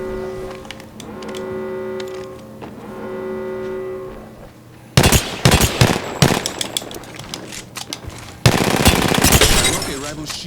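Dense bursts of rapid automatic gunfire from the Apex Legends video game erupt loudly, first in broken volleys and then in a sustained stream. Before them comes a stretch of droning, harmonic tones.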